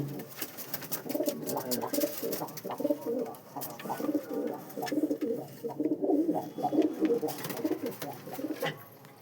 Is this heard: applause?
no